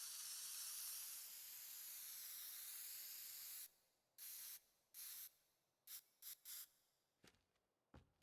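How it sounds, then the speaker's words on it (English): Spray can in the video game Teardown, a long continuous loud hiss followed by several short separate bursts of spraying, each cut off sharply, with nothing else heard. "Spray can."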